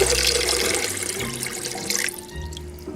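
Ice-cold water splashes steadily and fairly close for a few seconds as it pours into a bowl for a no-bake dessert, then the flow cuts off near the end.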